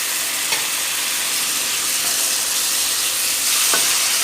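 Spring onion stir fry sizzles loudly and evenly in a pan while being stirred, with a couple of faint utensil taps over the constant hiss.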